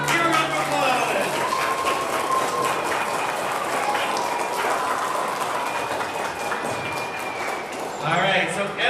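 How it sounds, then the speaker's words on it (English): An audience applauds at a fourth-grade school dance performance, a broad, sustained clapping that fills the room, with voices heard briefly at the start and again at the end. "Give a round of applause."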